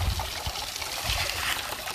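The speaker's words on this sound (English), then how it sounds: "You can hear the gravels running down through there, clinking on the bottom." Creek water flows through a truck bed liner sluice box at Honey Creek in Ohio while gold hunting, a steady close rushing trickle with gravel running down and faint clinks underneath.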